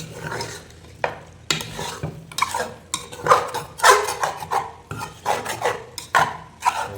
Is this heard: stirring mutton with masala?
yes